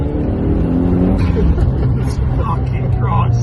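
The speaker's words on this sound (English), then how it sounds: "it fucking burbles on diesel" An overhauled Golf GTI running on diesel burbles and rumbles while being driven, a continuous close engine drone under people talking in the cabin.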